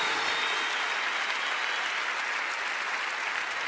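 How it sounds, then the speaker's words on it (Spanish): Dense, steady applause from a large church congregation at an evangelical sermon, loud and continuous throughout with no pauses, filling the whole space. "Vamos, vamos, aplaudan más que eso"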